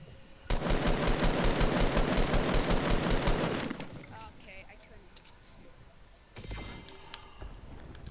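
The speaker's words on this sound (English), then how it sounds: "I'm getting shot at" Rapid automatic gunfire in Fortnite rattles loud and close in a sustained burst for about three seconds, then fades into quieter game noise before a shorter burst of firing near the end.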